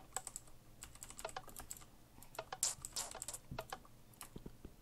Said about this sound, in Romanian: I-am luat nouă tastatură, poate se aude.